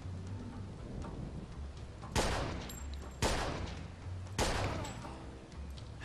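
Rifle gunfire in the Mafia II video game: three loud, sharp shots about a second apart, each with a crackling tail, over a steady rumbling backdrop of game noise.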